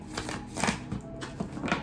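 Tarot cards are shuffled by hand in a quiet room, a series of soft riffling and tapping bursts in an uneven rhythm, close and fairly faint.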